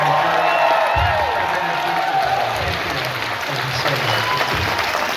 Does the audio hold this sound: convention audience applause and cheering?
yes